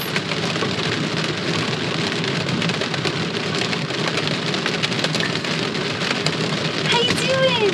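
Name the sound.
thunderstorm with hail and rain on a camper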